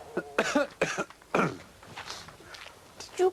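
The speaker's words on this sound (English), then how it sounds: "Did you cough" A single soft cough in a quiet indoor room, followed by a brief throat-clearing sound and faint movement, with no talk over it.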